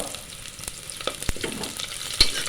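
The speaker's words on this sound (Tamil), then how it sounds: "பெரிய வெங்காயம் கட் பண்ணதை போடுறோம் பட்டை பிரியாணி தலை இதெல்லாமே போடுறோம்" Chopped large onions with cinnamon and bay leaf sizzle in groundnut oil for village-style chicken biryani, a steady close frying hiss broken by a few sharp crackles and stirring clicks, with no talk.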